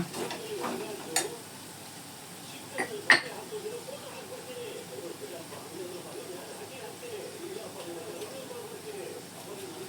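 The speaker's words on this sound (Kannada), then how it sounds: "ಈಗ ಮಸಾಲ ಹಾಕಿದ ಮೇಲೆ ಇದು ಒಂಚೂರು ಎಣ್ಣೆಯಲ್ಲಿ ಇದನ್ನು ಮಸಾಲ ಫ್ರೈ ಮಾಡ್ಕೋಬೇಕು" Masala powder fries in a little oil in a pan, making a soft, continuous low sizzle with a few sharp utensil taps near the start, close but quiet.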